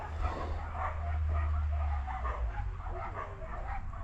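Several dogs bark and yip at a distance, heard from a delivery stop over a low, steady engine rumble, with scattered short yelps rather than loud close barking.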